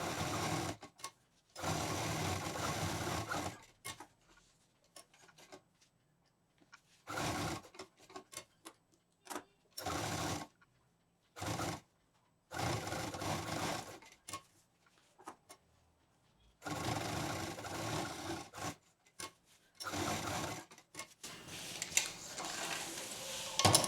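A sewing machine stitches fabric pieces for a patchwork bag in repeated bursts, each run of steady mechanical whirring lasting one to several seconds and separated by quiet pauses, close and fairly loud with no talking.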